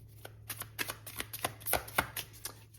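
Oracle cards being shuffled by hand, a quick run of crisp riffling flicks and soft slaps in steady rhythm, close and fairly quiet with no talking.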